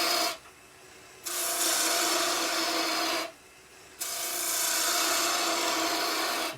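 A Crown Cryo bowl gouge cuts wood on a spinning lathe, giving two long, steady, rasping shearing passes separated by a short break, close and prominent with no talk.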